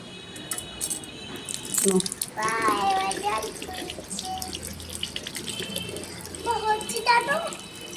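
Tap water runs and splashes steadily close by as a little girl washes bhang and ghee off her hands, while the child and an adult chatter over the flow.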